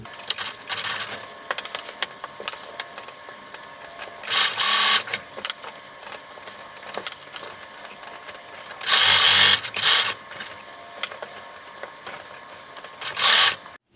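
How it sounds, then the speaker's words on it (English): A sewing machine stitches the seam around a fabric bucket, running in short whirring bursts separated by quieter pauses and small handling noises, close by and alone. "Now we're going to sew this whole seam all the way around."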